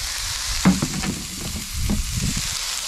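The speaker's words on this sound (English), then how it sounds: "Get all that on there, and hear it sizzling." Yabbie tails frying in a smoking-hot cast iron pan, a loud continuous sizzle with crackling bursts and stirring scrapes as the tails land and are moved, no talk.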